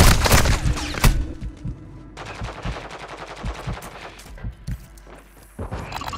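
Bursts of automatic gunfire in Call of Duty: Warzone, a rapid rattling volley at the start, then a steady run of sharp repeated shots with scattered thuds and footsteps, loud and close with no talk.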